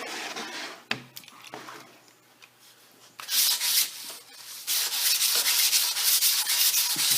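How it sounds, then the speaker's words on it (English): A Japanese water stone being lapped flat on top of a table saw makes gritty back-and-forth rubbing strokes, quiet and sparse at first, then loud and steady scraping up close. "This is called lapping."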